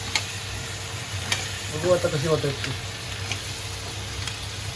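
Village crabs sizzle in a pan of tempering oil, a quiet steady fry that briefly crackles and bubbles louder in the middle, with someone talking softly over it.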